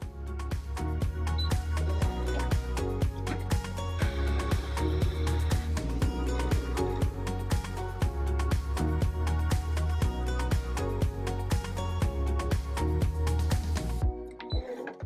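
An electronic cutting machine slices through a sheet of paper for a DIY fall banner, a steady run of rapid clicking and whirring motor bursts, loud and close, carrying on without pause for the whole stretch before cutting off abruptly at the end.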